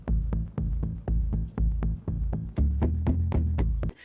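The default preset of the Zero-G Mobius Modular Techno Box plays a pulsing electronic pattern: a deep, throbbing bass note repeating about twice a second with sharp percussive ticks on top, steady and moderately loud.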